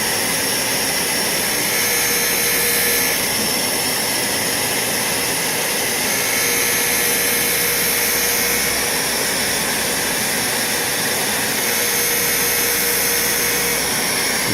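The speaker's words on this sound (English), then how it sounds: "Got the 911 rolling. A little bit of vacuum action." Wissota 911 skate sharpener grinding a bandy skate blade during re-profiling, its attached vacuum running alongside, producing a loud, steady broadband whir and hiss that holds unbroken throughout, with no talking.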